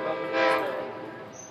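An Amtrak train passes with its horn sounding, a loud, sustained chord that swells and then fades over a steady rumble of the moving train, with no talking.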